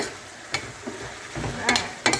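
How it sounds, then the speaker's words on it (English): Beef pie sauce sizzles softly in a pan while a utensil stirs it, with several distinct scraping knocks against the pan over a low frying hiss. "then give this a good stir"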